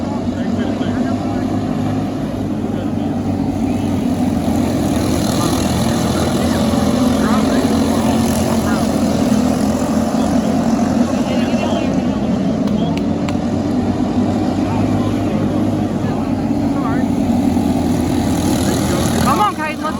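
Racing kart with a Briggs gold 206 engine driving at Mountain Creek, a steady loud droning engine note throughout, with someone shouting encouragement over it.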